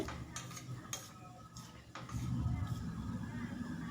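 Boiled masoor dal is stirred in a pot, a few soft spoon taps and knocks at first, then a thicker, muffled churning, all fairly quiet.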